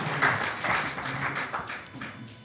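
Applause from an audience at an academic talk on the Arab uprisings, following introductions of two speakers; a steady broadband patter of clapping, moderately loud and fairly distant, lasting a couple of seconds with no voices.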